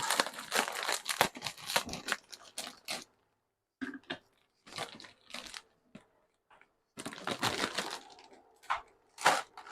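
Crinkly plastic package being cut open in a kitchen while preparing gluten-free food, giving bursts of close crackling and rustling with short pauses between.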